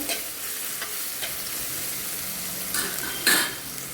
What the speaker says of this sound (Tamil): இப்போ இந்த வெங்காயம் கொஞ்சம் நல்லாவே வதங்கணும்.